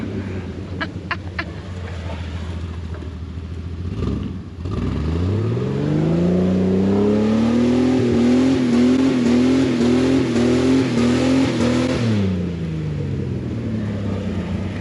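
A Jeep engine on top of a waterfall revs up hard and holds high as its wheels spin, a loud rising whine lasting several seconds before dropping off, with light chirping in the background at the start.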